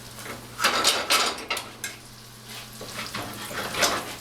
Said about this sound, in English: once it's cooking, you want to shake it like this so the oil goes on top of it and starts cooking the top also